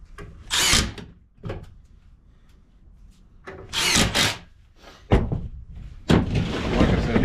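Power drill driving coarse screws into a pine pet gate in several separate bursts, close and loud, each whirring spell ending sharply, with quiet gaps between and no speech.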